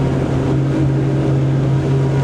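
Loud, steady drone of a Parker Sorrento 100 motorboat engine accelerating, reaching about 37 knots at 4,800 rpm, with rushing wind and water, constant throughout with no voices.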